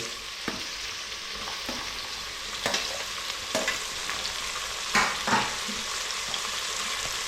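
Tomatoes added to a hot pan with turmeric for bisi bele bath, giving a steady soft sizzle with occasional stirring scrapes and clinks, close and moderate in level, without voices.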